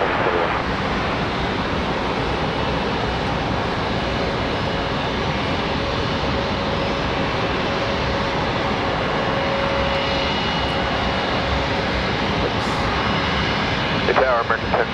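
Spirit Airlines jet airliner at Charlotte Douglas International Airport, a steady broadband engine roar filling the whole stretch with a faint tonal whine, as heard from a plane-spotting spot with distant ambient noise.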